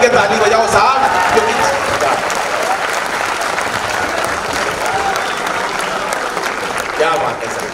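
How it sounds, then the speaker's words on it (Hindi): Audience clapping together throughout a Hindi comedy poetry performance, a dense steady burst of many hands that holds loud for the whole stretch and eases slightly at the end, with some voices mixed in. "एक बार जरा मिलके ताली बजाओ साहब।"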